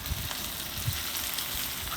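Rice with a mixed sauce sizzles steadily in a hot pan, a close, continuous frying hiss with a few soft stirring knocks.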